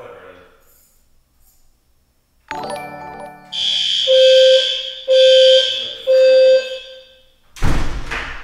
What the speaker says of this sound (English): they're just testing the alarm.